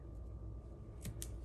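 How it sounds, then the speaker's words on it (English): Scissors cut through a strip of paper for a paper craft project, two quick crisp snips close by in a quiet room. "Then we're going to take our scissors and cut this right here."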